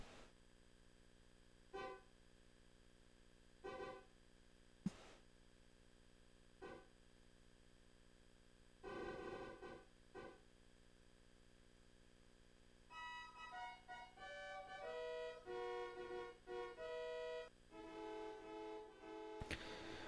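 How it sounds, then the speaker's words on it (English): A car horn in the video game Deltarune Chapter 2 sounds in scattered short honks, then breaks into a rapid melodic sequence of tooting notes, clean and synthetic with no talking. "that honk sounds like Metaton's theme from Undertale"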